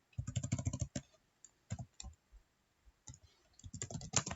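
Quick bursts of keyboard typing as a Linux terminal command is entered, clustered keystroke clicks close by with short pauses between runs, no voice.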